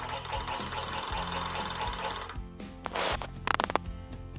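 A sewing machine stitches trouser fabric in steady whirring bursts with a pulsing mechanical rhythm, then stops, followed by scattered clicks and handling noises close by.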